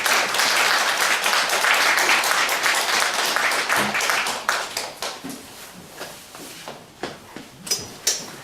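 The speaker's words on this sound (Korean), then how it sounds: "우리 장경철 교수님 우리 박수로 모시겠습니다." An audience at a teachers' college lecture claps in a dense, sustained round of applause that gradually thins out into scattered individual claps.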